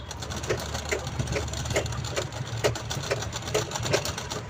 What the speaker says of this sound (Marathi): तर इकडनं देखील आपण याला चेनला स्टिच करून घेऊया.